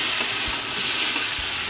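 Eggs sizzle steadily in a hot pan, a dense close-up crackle with a couple of soft low knocks.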